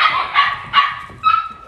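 Puppies barking while playing indoors: four short, high yapping barks in a loose rhythm, close and fairly loud, with a slight pause before the last one.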